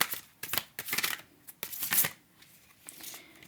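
A tarot deck with a soft-touch matte finish is shuffled in quick riffling bursts, crisp flicking rustles coming in irregular clusters close by with brief pauses between.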